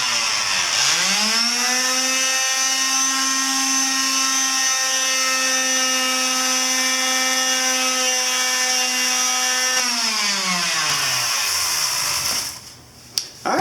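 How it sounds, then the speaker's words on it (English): A power sander works on the cooling fins of a Yamaha Virago 250 XV250 motorcycle engine, whining up to a loud, steady buzzing tone, holding it for about ten seconds, then winding down, followed by a couple of knocks. "But we're going to just sand them down a little bit using the power sander"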